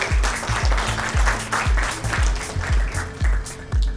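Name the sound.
audience applause at film festival award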